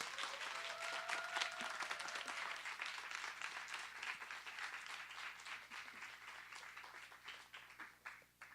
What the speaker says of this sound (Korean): 혜성이를 이 무대에 초대하고 싶은데 박수 좀 부탁드릴게요